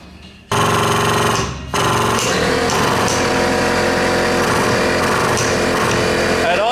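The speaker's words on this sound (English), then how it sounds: "This here is a hydraulic pump. It's actually a foot pump." Hydraulic foot pump driving a pipe bender kicks in abruptly after a brief quiet, a loud, steady mechanical drone with a short dip near the start before it runs on continuously, close and dominant.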